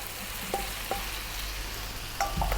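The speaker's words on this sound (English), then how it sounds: "stirring pretty much all the time now" Chicken, potato and coconut curry sizzling steadily in a pan while being stirred, with a few soft scrapes of the utensil against the pan; no talking.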